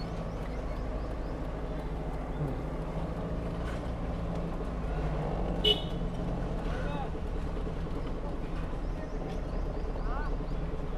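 Manual car driven slowly during a driving lesson: a steady low engine and road hum runs throughout beneath an instructor's spoken directions, with a brief knock or click near the middle.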